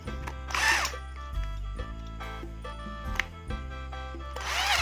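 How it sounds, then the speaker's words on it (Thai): Close, loud whine of a power drill as it bores holes while building a trap for large doves, with motor pitch shifts and short stops and starts between passes. "เจาะขยับเข้าไปเลยนะครับ"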